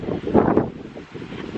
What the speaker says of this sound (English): I'm gonna put this close to my face because it's so windy